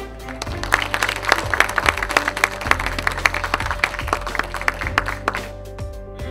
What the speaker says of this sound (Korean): 박수를 좀 받으시면 감사하겠습니다.